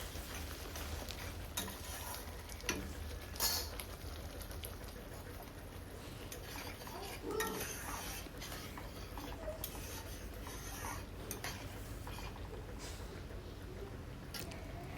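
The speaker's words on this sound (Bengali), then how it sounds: "তারপর সমস্ত মশলার সঙ্গে ভালোভাবে কষিয়ে নেব।" Spices frying and being stirred in oil in a pan for a katla fish curry with tomato, with a faint, steady, crackling sizzle and occasional light ticks from the spoon, heard quietly throughout.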